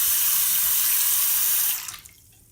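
Water gushing from a newly installed bathroom faucet into the sink, a loud steady hiss that cuts off abruptly near the end, leaving quiet drips and silence.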